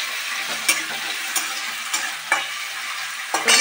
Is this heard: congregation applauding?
no